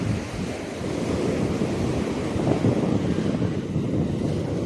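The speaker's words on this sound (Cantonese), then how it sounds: "咁哇好高啊啲浪" High sea waves crash on the shore in a continuous loud roar of surf, with heavy wind buffeting the microphone throughout and no speech heard.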